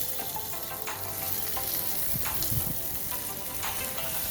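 Smash burgers sizzle steadily on a NexGrill Evolution infrared griddle, a continuous frying hiss with occasional scrape and stir clatters, close and fairly loud, no voices.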